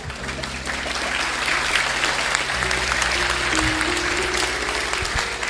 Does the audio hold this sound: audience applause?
yes